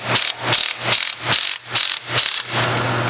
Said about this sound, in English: We're going to go ahead and see if we can pull that flange off of there.